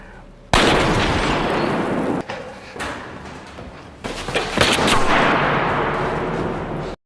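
A film shootout fills the air with dense bursts of gunfire, sharp cracks and blasts repeating loud and close, with brief lulls between volleys.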